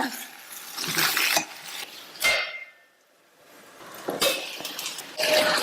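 Potato masala stirred in a pan gives clinking and scraping of a spoon against metal in uneven bursts, with a short pause in the middle. It is close and moderately loud.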